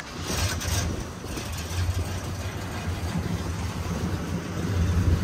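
A 1965 Pontiac Lemans convertible engine running while driving, a steady low rumble with road and wind noise holding at a constant level throughout, no talking.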